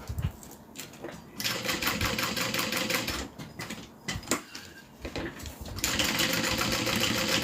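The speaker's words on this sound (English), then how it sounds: "I could absolutely use my domestic sewing machine for this." A domestic sewing machine stitching through a vinyl bag, fast steady needle chatter in bursts, stopping and restarting, with a longer run at the end, loud and close.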